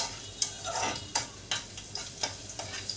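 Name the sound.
garlic frying and being stirred in pan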